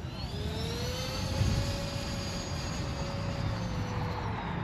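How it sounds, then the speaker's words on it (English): A Freewing F-16 64mm electric ducted-fan RC jet on 4S power makes a relaxed pass in windy weather, a steady whooshing fan whine whose pitch rises slightly and then falls as it goes by, with wind noise underneath. "Just coming by for a relaxed pass. F-16."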